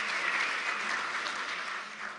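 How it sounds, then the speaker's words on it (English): Audience applause at a Lutheran Family Services of Nebraska fundraising gala, a dense steady wash of many hands clapping that stays loud throughout and fades slightly at the end. "Let's give them a huge round of applause."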